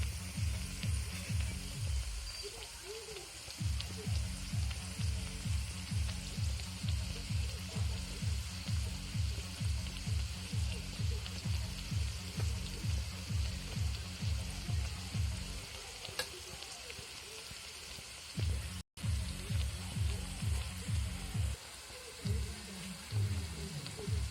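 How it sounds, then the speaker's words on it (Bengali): Cabbage fritters (bora) crackle and sizzle steadily in hot oil, a dense, even frying hiss with pulsing bubbles close by, briefly interrupted by a short break near the end. "এইগুলো আমি একটু কড়া করে ভেজে নেবো এই পাশটাও, তাহলে সুন্দর হবে খেতে।"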